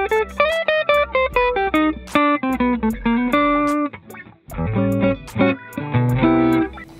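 An electric guitar run through a Blues Driver overdrive effect in BIAS FX plays lightly crunchy neo soul chords and single-note lines, clear and close, with rhythmic strums and sustained notes and no talk.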